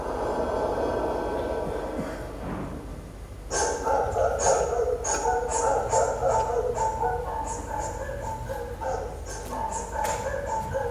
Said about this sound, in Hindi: वो देखिए कुत्ते भौंकने लगे